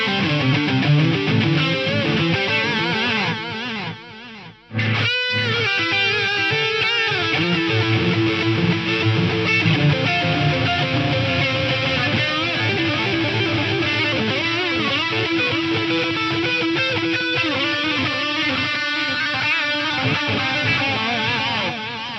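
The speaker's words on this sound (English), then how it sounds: "you can hear the delay is a bit more full-bodied" Distorted electric guitar plays through a Roland SDE-1000 rack delay with the delay time adjusted, the repeats thick and full-bodied behind the notes, loud and continuous apart from a brief gap partway through.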